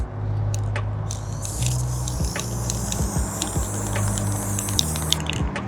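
Aerosol spray paint is applied to a faucet in a continuous close hiss, broken by short pauses, over a low steady hum.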